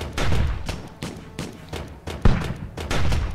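Rifle towers fire in the tower defense game Steampunk Tower 2, a run of sharp, punchy shots at an uneven pace, some bursts clustered close together, loud and close with no talk over them.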